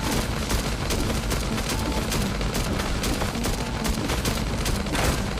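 Sustained gunfire from survivors shooting in the survival game Last Day on Earth, a dense, continuous fusillade of rapid shots at steady loudness throughout, with no voices.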